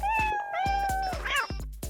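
A cat meows insistently in a quick series of drawn-out, tonal calls, close and loud, with no other sounds around.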